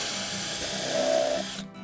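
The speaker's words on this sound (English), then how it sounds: "Now I'm drilling the piloted holes on the underside of the top of the cabinet" A power drill whines steadily while drilling pilot holes into the wooden underside of a cabinet top, a loud continuous buzz that winds down as it stops.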